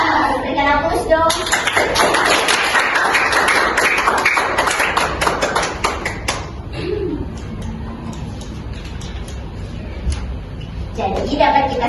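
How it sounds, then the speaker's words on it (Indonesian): Children applaud in a classroom, a dense burst of clapping that swells and fades over several seconds, with a teacher's voice speaking around it. "Berikan aplaus dong."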